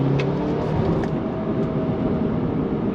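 A Mercedes-Benz CLA 250 with a 2.0L engine accelerates on a highway, a steady, loud interior roar of engine and road noise with a rising tone and no break.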